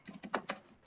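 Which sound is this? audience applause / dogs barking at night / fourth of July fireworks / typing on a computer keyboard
typing on a computer keyboard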